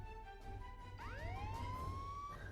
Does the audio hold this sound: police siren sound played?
yes